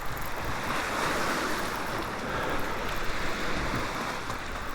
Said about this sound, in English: All this rough water's left over from what pushed me off the water yesterday